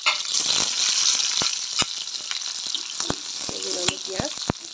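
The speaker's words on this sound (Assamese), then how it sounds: "তেল গৰম হ'ল আৰু এতিয়া মই দি দিম পিঁয়াজ আৰু জলকীয়া দুটা কুটি দিছোঁ" Chopped onions and two green chillies hit hot oil in a kadai, setting off a loud, dense sizzle that holds steady, with sharp clicks of a stirring spoon against the pan scattered throughout.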